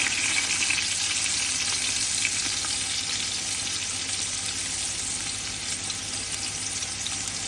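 Finely chopped onions frying in oil with cinnamon pieces for a Kerala-style camel curry, a loud, even, continuous sizzle heard close up with no talking.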